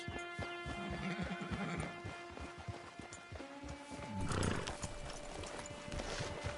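Horses in a video game gallop and neigh near a camp, rapid clip-clop hoofbeats running throughout with a whinny partway through, over steady tonal game music.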